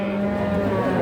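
A cow gives a low, steady, sustained moo at a cattle market in Tuban, East Java, heard close and loud on its own; the cow is seven months pregnant.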